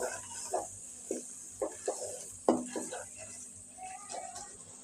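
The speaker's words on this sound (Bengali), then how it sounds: "সব কিছু দিয়ে আমি এখন মশলাটা ভালোভাবে কষিয়ে নেব" Masala paste with garlic is fried and stirred in a pan for a desi chicken curry, with a spatula scraping and clanking in repeated strokes over a low frying hiss, and a faint voice now and then.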